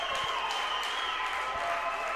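Fans applaud seniors at a high school basketball game between Sterling Black Bears and Stanton County Trojans, a steady wash of clapping filling the gym under a faint hum.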